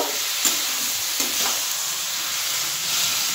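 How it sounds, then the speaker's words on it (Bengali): Water used to rinse a spice bowl is stirred into a hot pan of bottle-gourd stems with sesame and mustard, giving a continuous loud sizzle with a couple of faint scrapes. "মশলা বাটি ধোয়া জলটা দিয়ে দিলাম, জলটা দিয়ে একটু নেড়ে দেব"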